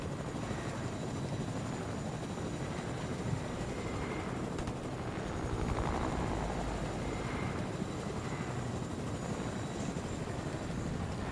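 A helicopter in the video game Fortnite hums with a steady rotor and engine drone, swelling slightly in the middle and holding continuously without speech.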